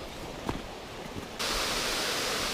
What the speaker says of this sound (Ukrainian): Тут такий гарний водоспад.